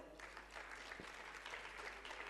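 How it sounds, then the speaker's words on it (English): Faint audience applause fills a hall during a plenary session at a 2017 forum, a quiet, steady patter of many hands heard from a distance with a low hum underneath. "Big round of applause for her again."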